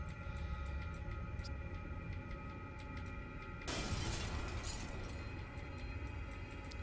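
In the Fate Extella video game the sky shatters like glass: a sudden bright crash bursts out midway over a droning game backdrop, then decays into a lingering hiss.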